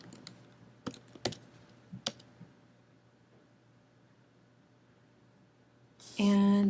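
Keys tap and mouse buttons click in a few sparse, close strokes at a computer during a library website search, followed by a quiet stretch and then a sudden loud burst of noise at the end.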